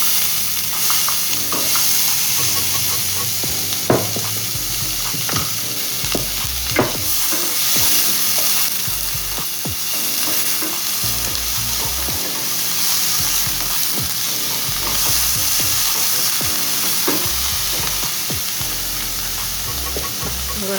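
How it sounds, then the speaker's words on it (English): Onion sizzles and crackles steadily in hot oil in a pan, with occasional clinks and stirring sounds, continuous and close up. "There's a little bit of oil in the frying pan, so I'm just going to add the onion"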